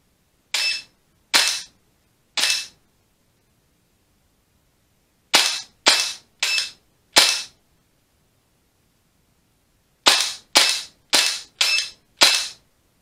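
Cool Fire laser trainer pistol dry-fire shots, sharp crisp snaps in spaced groups: three, then four, then five in quick succession, with silence between.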